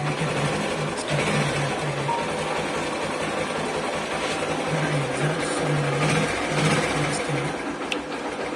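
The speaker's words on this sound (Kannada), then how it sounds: "ನೋಡಿ, ಗಾಡಿನ ಸ್ಟಾರ್ಟ್ ಮಾಡಿ ತೋರಿಸ್ತೀನಿ. ಒಂದೇ ಕಿಕ್ಕಿಗೆ ಸ್ಟಾರ್ಟ್ ಆಗುತ್ತೆ." A ten-year-old Bajaj Platina motorcycle engine runs close by with a steady, rapid buzzing putter and slight rises in revs, loud and continuous throughout, with someone talking over it at times.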